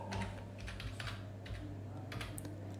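A command is typed on a computer keyboard, with quiet clusters of quick key clicks in an irregular rhythm, close but faint.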